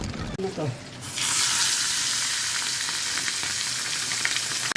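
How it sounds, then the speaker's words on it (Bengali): Bol fish and a fish head fry in a pan, a steady loud sizzle that kicks in after a brief quieter moment and holds continuously to the end. "লালিয়ার জন্য মাথাটা ভাজি হচ্ছে আর এখানে বল মাছ ভাজি হচ্ছে"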